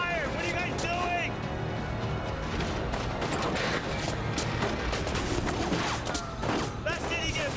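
Gunfire erupts in the 1979 Revolution video game, a dense, continuous volley of shots rattling throughout under shouting voices and game chatter.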